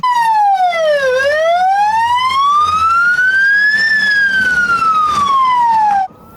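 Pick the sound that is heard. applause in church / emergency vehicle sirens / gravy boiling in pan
emergency vehicle sirens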